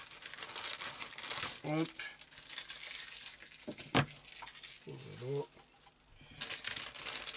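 Packaging for a Yamaha Vmax crinkles and rustles as it is opened, a few bursts of crumpling wrap with a sharp tearing snap midway, while someone speaks briefly between the handling noises.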